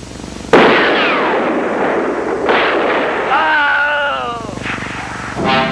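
A sharp, loud gunshot rings out, followed by a second blast a couple of seconds later, with rumbling echoes and a voice calling out.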